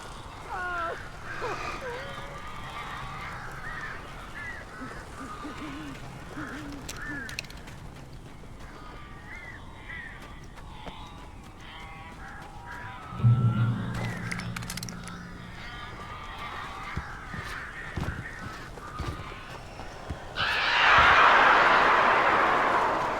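Strange birds cawing and honking in the Alan Wake video game, scattered harsh calls over a dark ambient bed, with a thump and a loud burst of flapping or screeching near the end; speech is faintly present.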